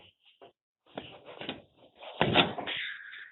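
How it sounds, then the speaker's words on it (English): Latches on the radiator access door of a John Deere S600 combine click and rattle, then the door swings open with a series of metallic clunks and a louder clatter, close up in a quiet setting. "This door will open up"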